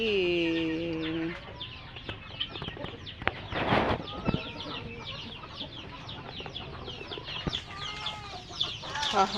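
Chickens cluck and squawk in short, scattered calls alongside guinea fowl at a Philippine backyard farm, with a rustling burst midway and light rain-time ambience throughout.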